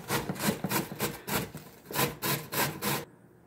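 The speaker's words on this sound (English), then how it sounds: "after grating up the cabbage" Cabbage scraped against an old-fashioned hand grater in quick rhythmic rasping strokes, about ten close crunchy passes that stop abruptly, with no voices.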